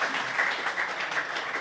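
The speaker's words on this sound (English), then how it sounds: "A big round of applause for CPCL." Audience applause at the Chennai Open 2025 golf event at TNGF Cosmo Golf Club, a steady, dense wash of clapping from a crowd that holds evenly throughout without any talk.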